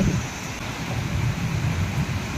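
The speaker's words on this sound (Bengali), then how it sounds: "ফাইনালি বৃষ্টি স্টার্ট হয়ে গেছে।" Steady rain with distant thunder rumbling low as a storm begins, a continuous broadband wash of falling water with low rumbles throughout, no voices.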